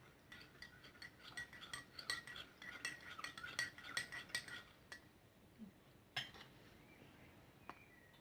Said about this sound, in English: Just stirring that to mix it in.